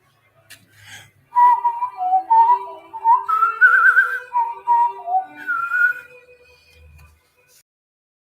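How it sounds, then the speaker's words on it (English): A person whistles a melody along to a song, clear and close, with several sustained phrases that rise and fall over about five seconds before stopping. "It's hard to whistle to this song whilst the camera is on."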